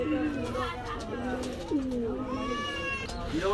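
Pakistani pigeons at a pigeon market in Khulna give low, wavering coos, with overlapping calls close by against market background noise and voices.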